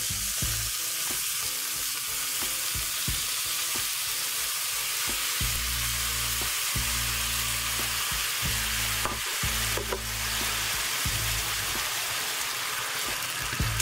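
Steady sizzling and bubbling of carrots in maple syrup caramelizing in a hot pan, with occasional stirring scrapes and low clunks, close up and continuous, with nobody talking.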